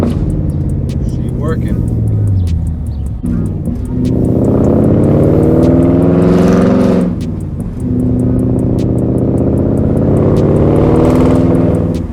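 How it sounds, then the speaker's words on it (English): A BMW 540i E39 sedan is driven on a test run after an oil pan replacement, its engine droning loudly and close, with two rising pulls as it accelerates and a brief dip between them. "So I'm just driving the car, make sure it works."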